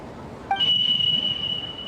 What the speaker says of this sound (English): There was definitely a beep, but it sounded like it was coming from inside my head.